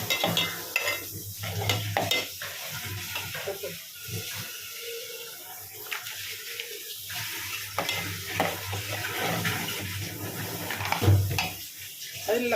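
Ground masala paste for Chettinad chicken gravy being stirred and sautéed in a pan, with soft scraping and a low steady sizzle running throughout, punctuated by occasional louder utensil knocks.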